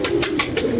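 Pigeons kept in a rooftop loft on a windy day coo in a steady run of soft, low repeated calls, close by, with no voices over them.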